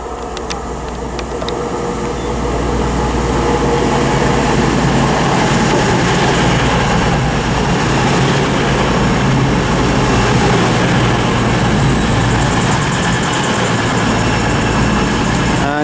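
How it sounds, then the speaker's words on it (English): CrossCountry passenger train arriving at Bristol Parkway station, a steady loud rumble of wheels and engine that builds over the first couple of seconds and holds, with faint squeals above. "arriving now is the 11:55 cross-country service Standard class to Bristol Temple Meads from Manchester Piccadilly"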